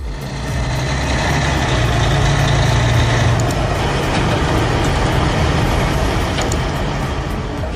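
A Kenworth logging truck loaded with timber, stuck tilted off a curve toward a hillside, sends out a steady, loud, deep diesel rumble close by for several seconds, with faint high beeps near the end.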